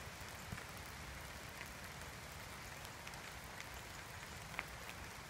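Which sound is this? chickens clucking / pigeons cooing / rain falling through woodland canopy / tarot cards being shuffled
rain falling through woodland canopy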